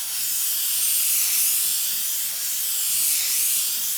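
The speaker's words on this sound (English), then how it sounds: "pulling the airbrush trigger way back" An Iwata Neo airbrush sprays paint in a wide pattern with the trigger pulled fully back, giving a steady, close airy hiss that holds unbroken throughout.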